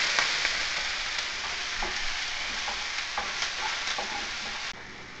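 Onions fry in a pan for a rajma curry, a steady broadband sizzle running unbroken throughout with scattered small crackles and spatula scrapes, close and fairly loud, no voices.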